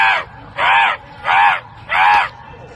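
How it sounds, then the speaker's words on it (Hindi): Crows are being summoned in India, and the clip contains four loud, evenly spaced harsh caws close by, each about half a second long. "हमारे अक्कू भाई कौवे बुलाएंगे"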